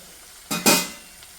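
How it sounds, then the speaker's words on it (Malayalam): Egg curry masala is stirred in a hot pan: two quick scraping, sizzling strokes in close succession, then a fade to near quiet with a faint tap. "അപ്പോൾ ഇത് നന്നായിട്ട് വഴറ്റട്ടെ"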